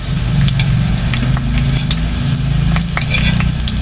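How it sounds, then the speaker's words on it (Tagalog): Garlic sautéing in a pan gives a loud, close, continuous crackling sizzle, with occasional stirring scrapes and sharp pops throughout. "igisa natin guys yung ating bawang"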